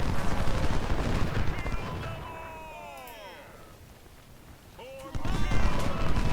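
Musket volleys crackle in Ultimate General: Civil War at the First Battle of Bull Run. A dense burst of rifle fire is followed by a quieter lull with a voice, then another loud ragged volley erupts.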